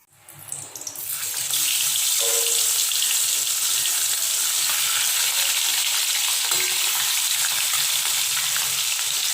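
Loud, continuous sizzling of fish frying in hot oil in a wok, rising quickly at the start and then holding steady, close by.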